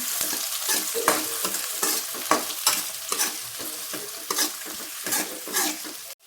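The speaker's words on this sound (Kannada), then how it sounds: "ಈರುಳ್ಳಿ ಚೆನ್ನಾಗಿ ಫ್ರೈ ಮಾಡ್ಕೋಬೇಕು" Onions frying in a pan, stirred steadily, giving a constant close sizzle broken by repeated scraping stir strokes, with no voices.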